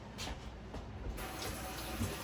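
Hot water pours steadily into a kitchen sink, a continuous close hiss and splash of running liquid with no talk.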